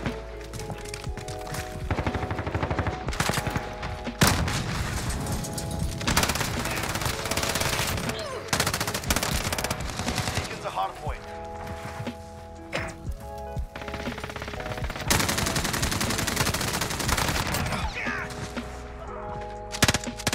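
Sustained FiNN light machine gun fire in Modern Warfare, long rapid bursts of loud close shots with brief pauses between strings, running for about twenty seconds amid game sounds.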